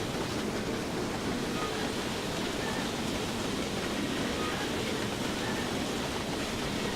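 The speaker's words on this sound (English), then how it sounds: "I can hear water, but I can't see it." Constant rushing water noise in the video game Train Sim 2018, broad and even throughout, like a stream or waterfall heard steadily with no breaks.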